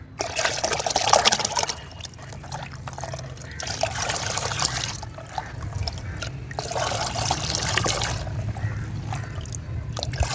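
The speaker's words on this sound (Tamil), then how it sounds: "ஊற்றி இது வந்து தண்ணி இதில் நம்ம கலக்க போகிறோம்." Water is poured steadily into a garden compost mix that includes a diluted honey-and-buttermilk solution, a continuous close trickling and splashing that rises and falls over about ten seconds, with no talking.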